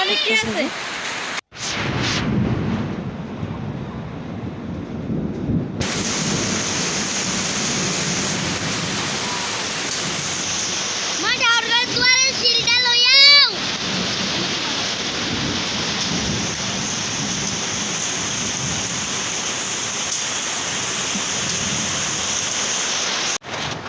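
Steady rain falls throughout, with a low rumble of thunder in the background, a brief sharp burst of noise near the middle, and a faint voice underneath.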